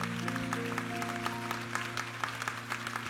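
A Korean church congregation applauds at a New Year's Eve service, a steady roomful of clapping over sustained keyboard chords for a few seconds.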